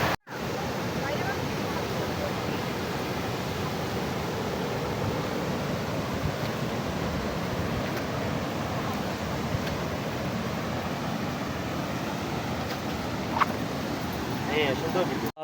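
Steady, broad rushing of water from a waterfall at an eco park in Meghalaya, continuous and fairly loud throughout, with voices talking faintly in the background.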